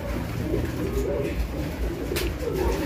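Soft, low cooing from a pigeon, repeating steadily over a dense, noisy background.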